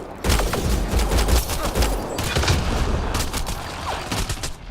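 Dense, continuous gunfire in the video game Mass Effect: Andromeda, with overlapping loud shots and bursts forming a close, sustained barrage with no speech.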